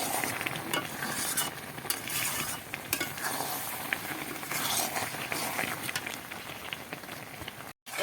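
Raw mango pickle cooked down in a pan over the flame to dry it, giving a quiet steady sizzle with frequent soft scraping and clicking stirring strokes, close by.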